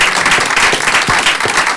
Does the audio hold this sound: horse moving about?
no